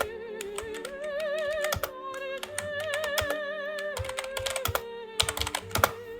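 Rapid continuous typing on a Logitech G213 membrane gaming keyboard, a dense run of soft clicky keypresses with brief pauses and a few sharper taps near the end, close and alone.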